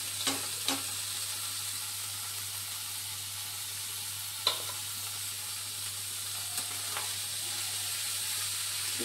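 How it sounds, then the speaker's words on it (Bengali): Banana flower frying in a pan, a faint steady hiss of oil under a low hum, broken by a few soft taps and scrapes of stirring. "এটা ভেজে ভেজে মোচাটা দিয়ে নাড়িয়ে নাড়িয়ে করবো"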